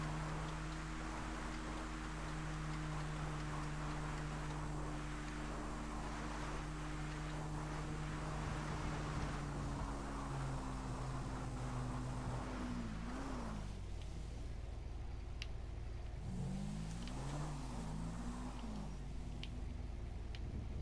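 A car engine in GTA 5 revs continuously while driving, with pitch rising and dipping in quick swoops as the throttle is worked, steady and close with no talk over it.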